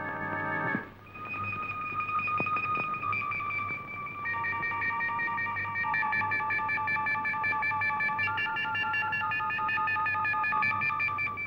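A telephone is dialed to call a mission hospital, giving a loud, steady run of electronic tones that shift pitch every second or two, with no talk over it.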